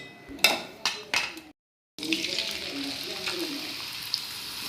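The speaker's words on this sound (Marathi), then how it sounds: "आता हे दुसरे पण तसेच तळून घेते सगळे।" Potato pieces frying in hot oil, a steady bright crackling sizzle that runs close and continuous, broken early by a few louder bursts and a brief silent gap.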